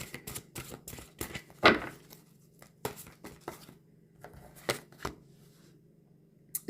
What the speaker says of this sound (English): Let me just draw one last card.